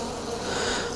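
A close, loud, steady buzz of bees fills the whole moment, droning continuously without breaks or voices.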